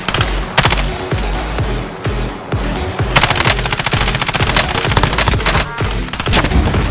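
Loud bursts of automatic machine-gun fire crackle in the Call of Duty Warzone video game, with rapid rattling volleys, short pauses and booming impacts running throughout and no talking.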